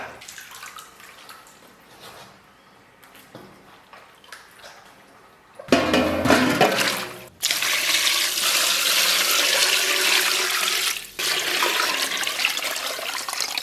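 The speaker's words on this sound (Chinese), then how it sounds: "简单的把肥肠再给它洗一下。" Pork intestines are rinsed under running water: quiet handling and drips give way to a loud rush of tap water that gushes steadily, stops briefly, then resumes.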